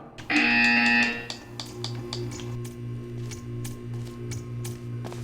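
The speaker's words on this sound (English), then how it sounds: "You will hear a buzzer." A short buzzing electronic tone from Portal 2 sounds near the start, followed by a series of sharp clicks and taps against a low steady hum.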